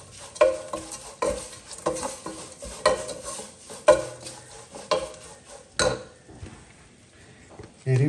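A spoon repeatedly scrapes and knocks through thick chickpea curry as Kashmiri chilli powder and coriander are mixed in, producing a rhythmic series of close clinks and stirs over a faint sizzle, with a pause before the end.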